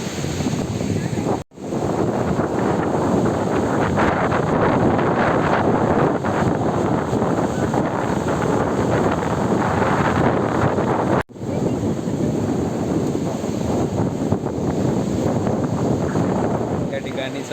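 Strong wind buffets the microphone on Tarkarli Beach near Malvan, a loud, steady roar with surf mixed in that continues throughout, broken by two brief dropouts.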